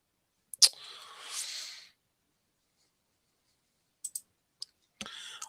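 Sharp computer mouse clicks in two groups: a single loud click followed by a soft rustle, then after a pause a quick run of four or five light clicks and more faint rustling, close and quiet with no voices.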